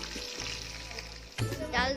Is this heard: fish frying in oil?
yes